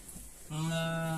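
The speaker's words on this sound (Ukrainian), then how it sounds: "Навіть молоденькі вівці дуже капризні, кричать" A young sheep gives one loud, close, drawn-out cry that starts abruptly and holds steady to the end, with no talk.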